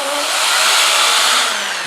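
A power sander whirs steadily against a wooden bowl, a loud, continuous high-pitched grinding hiss that holds evenly for a couple of seconds.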